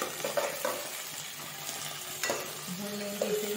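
Mixed dal and spinach with coriander are stirred and sautéed in a pan, a continuous close frying hiss with scraping strokes of a spoon rising and falling throughout.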